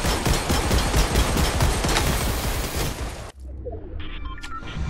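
Rapid automatic gunfire from the Halo video game rattles loud and continuous for about three seconds, then cuts off abruptly and leaves quieter game sounds and faint tones behind.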